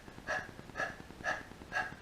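Rapid, forceful panting breaths for a breath-of-fire yoga exercise, imitating a panting dog: four evenly spaced, loud huffing exhales about half a second apart, close to the listener with no other sound.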